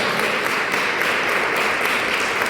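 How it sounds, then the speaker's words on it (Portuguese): A church congregation applauding during a Brazilian Portuguese sermon, a continuous wash of many hands clapping, loud and steady throughout with no pauses. "Vamos aplaudir Jesus bem forte."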